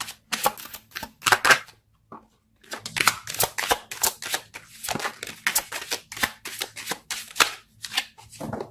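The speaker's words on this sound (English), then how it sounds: "Let's pull a card for your mental space." Tarot cards being shuffled in rapid bursts of crisp, riffling flicks and slaps, close and fairly loud, with a short pause before the shuffling resumes steadily; no voice is heard.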